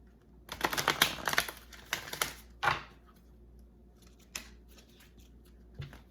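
Oracle cards shuffled and drawn at close range, a few quick papery riffles and flicks in short bursts separated by near silence, with no talking.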